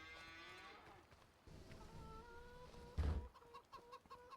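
Cows moo at a cow barn in a farming video game map, long low drawn-out calls, one louder and closer, with a rooster-like cackle and faint bird sounds in the quiet background.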